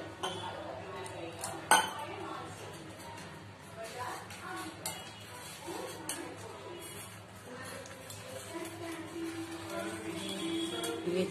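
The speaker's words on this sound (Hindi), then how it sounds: "इसे अच्छे से मिक्स कर लेंगे।" A spoon stirs kadhi batter in a bowl, making soft, continuous scraping and light clinking with a sharper clink near the start. The sound stays close and fairly quiet.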